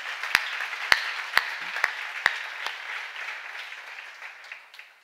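A seminar congregation applauds in unison, with about five sharp, evenly spaced claps standing out over a soft, diffuse background that fades toward the end.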